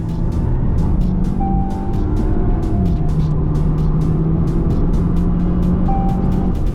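A 2025 Skoda Octavia RS engine drones loudly and steadily at speed on a race track, its pitch climbing and dropping with gear shifts, close up with no talking.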